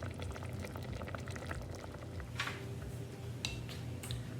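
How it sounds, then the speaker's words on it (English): Strawberry jam boiling in a pot on the stove, a soft steady bubbling with occasional louder pops and splutters, fairly quiet and close, with no talking. "Once your jam is boiling, bring down the heat."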